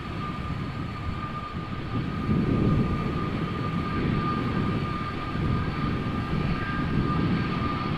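An airliner taxiing at Amsterdam Schiphol Airport, a steady, loud engine rumble with a thin whine, swelling slightly midway and holding constant with no voices.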